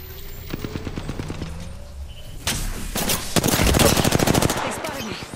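Rapid automatic gunfire in Apex Legends, with the player as Wraith: a quick rattling burst, then heavier, denser volleys close by that build louder toward the end.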